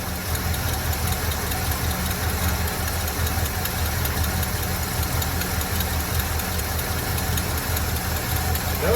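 An old Chevy C30 square-body dump truck engine idles roughly and steadily throughout with a constant low rumble and a faint rapid ticking from the exhaust, no talk, loud and close.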